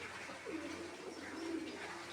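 Home-bred female pigeons give a low, soft cooing, two drawn-out coos against a steady background hum, moderately faint and without voices.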